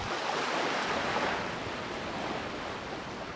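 Ocean waves wash onto a beach, a broad, continuous roar of surf that swells near the start and eases off slightly, with no voices.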